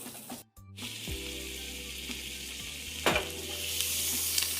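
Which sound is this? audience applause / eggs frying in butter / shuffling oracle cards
eggs frying in butter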